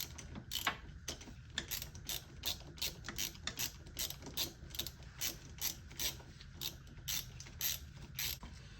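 Hand ratchet wrench working on an axle removal during a clutch job, a quiet, steady stream of rapid clicking pawl bursts with short pauses between strokes, close and without talk.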